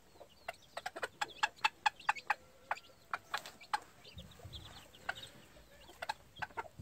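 Hatch Grey cross gamefowl hens with newly hatched chicks, a stream of close sharp clucks and peeps in quick irregular bursts, with a soft low rumble partway through.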